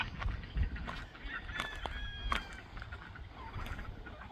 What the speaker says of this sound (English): chickens, that's a loud bird